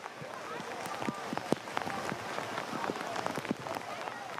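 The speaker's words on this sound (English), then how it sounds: "the absolute downpour that is hitting Syracuse right now" A heavy downpour pounding the field and stands at SU Soccer Stadium in Syracuse during a men's college soccer match, a dense, steady hiss of rain with scattered sharper splats throughout.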